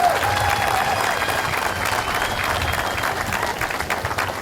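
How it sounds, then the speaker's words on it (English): A crowd at a pier ribbon-cutting ceremony applauds loudly and steadily, with a murmur of voices under the clapping as it slowly eases off. "So let's give all of these people again a round of applause for never giving up."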